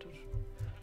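Sheep bleat in the Minecraft video game, two short low bleats close together over a steady background hum.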